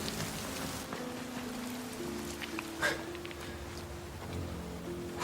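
Steady rain falls on a surface as a continuous, even patter throughout, with a brief louder drop near the middle and no voices.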